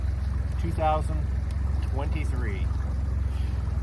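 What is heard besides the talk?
boat engine idling on Clear Lake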